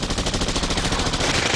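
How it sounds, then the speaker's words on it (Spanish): Rapid, dense automatic gunfire rattles continuously during an embassy siege, loud and close, with bursts overlapping into a sustained fusillade and no voices. "El tiroteo se intensificó."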